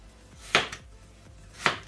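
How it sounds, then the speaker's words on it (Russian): Two sharp knife chops through potatoes on a cutting board, cutting half-rings, about a second apart, close and crisp. "картошку нарезаем, ну, вот такими полукольцами"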